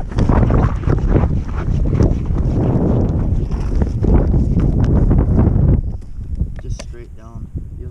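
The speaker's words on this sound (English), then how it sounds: "it's so windy" Strong wind roars and buffets the microphone in a loud, continuous rush while fishing for walleye, easing off toward the end as faint voices and splashing come through.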